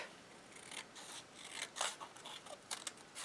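Scissors snipping a strip of paper, a quick series of short, close, crisp cuts and rasps, fairly quiet and heard alone.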